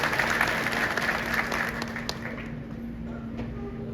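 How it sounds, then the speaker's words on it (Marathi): Crowd applause at a Nationalist Congress Party workers' rally in Ambegaon-Shirur, a dense sustained clapping from a large gathering that gradually thins and fades toward the end. "टाळ्या जरा जोरात वाजवा"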